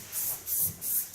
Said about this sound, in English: I use the detailer spray.